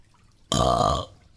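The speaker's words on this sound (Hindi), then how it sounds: "तभी कालू जानबूझकर डकार देने लगता है।" A cartoon crow gives a deliberate, drawn-out voiced burp in a Hindi animated story, one loud belch lasting about half a second and standing alone against near silence.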